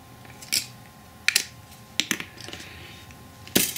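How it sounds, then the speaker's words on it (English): Metal snips cut through a TIG welding rod in a workshop, giving several sharp separate snaps and clicks spread over a few seconds against quiet background hum. "put the TIG rod into the snips, grip it, and then put my hand over it to stop the offcut"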